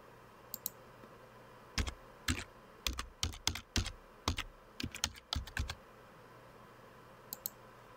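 A password being typed on a computer keyboard: a quiet, close burst of about a dozen crisp key clicks in uneven rhythm over a few seconds, with a couple of faint ticks before and after.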